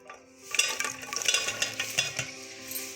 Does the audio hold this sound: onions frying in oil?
yes